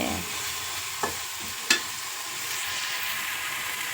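Onions browning in a pan for a simple egg fry, a steady soft hiss of frying with two brief scrape or clink sounds from stirring, fairly close and free of speech.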